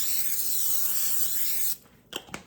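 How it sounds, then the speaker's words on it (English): Non-stick cooking spray hisses into a casserole dish in one continuous burst of close spray lasting under two seconds, followed by a couple of faint clicks and taps. "And you gotta spray it."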